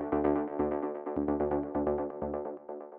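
Driving techno synth lead in its original form: a rich, buzzy tone repeating in a steady, pumping rhythm of short notes that blur together, loud and up front with no talking.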